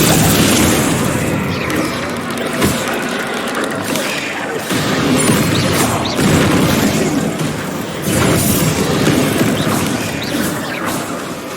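Bombarda blasting spells cast in Hogwarts Legacy combat, a dense loud mix of booming impacts, crashes and mechanical rattles in repeated surges over about twelve seconds, with no clear talk.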